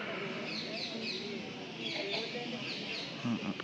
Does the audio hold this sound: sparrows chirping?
yes